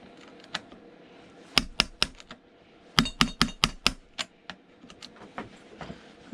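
Sharp snips of cutters clipping the corner off a high-grade circuit board to free an MLCC capacitor, a dozen loud crisp clicks in uneven bursts with a quick cluster near the middle, close and alone.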